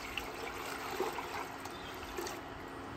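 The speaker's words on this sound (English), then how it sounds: "We're just gonna add the brine, give it a good dissolve, let it boil for about 5 minutes." Brine mix stirs into a pot of boiling water for a turkey, giving a soft bubbling, trickling wash of liquid with a few small splashes, fairly faint and steady.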